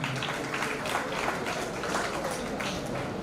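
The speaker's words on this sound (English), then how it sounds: "A big round of applause." Audience applause at an international symposium on brain discoveries, a steady wash of clapping from a seated crowd lasting a few seconds, with faint voices underneath.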